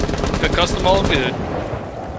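Rapid exchange of automatic gunfire in Rainbow Six Siege, a dense burst of close shots for about a second that fades into lingering rumble.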